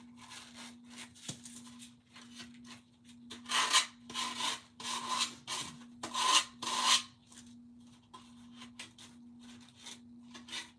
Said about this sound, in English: Sandpaper on metal.